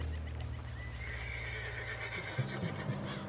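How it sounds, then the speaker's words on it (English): A horse in the video game Red Dead Redemption 2 whinnies in a long, wavering neigh over a low rumbling background, followed by a few soft snorts. "What's got this horse spook, huh?"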